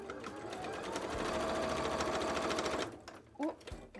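A sewing machine whirs at a steady, fast pace for about three seconds while stitching through the end of a costume tail, then stops, followed by a few short words of speech.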